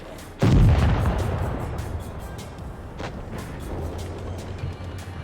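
Heavy tank cannon shot in World of Tanks Blitz during a tournament match, a single loud booming blast near the start that rolls off into a long rumbling tail, followed by scattered fainter distant shots over a steady low engine hum.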